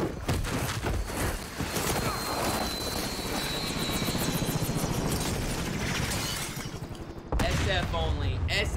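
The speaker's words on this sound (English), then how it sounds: "You would not rope out of a helicopter while it's going down." Helicopter going down in Call of Duty Modern Warfare, its rotor chop and roar mixed with bursts of gunfire and clattering impacts, busy and close, ending in a sudden cut and another loud burst.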